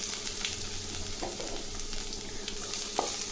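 About six peeled garlic cloves frying in a pan for idli podi, a continuous close sizzle with occasional scrapes and taps of a stirring spoon.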